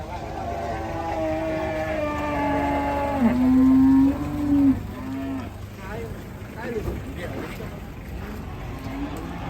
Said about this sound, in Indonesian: Penurunan sapi galak.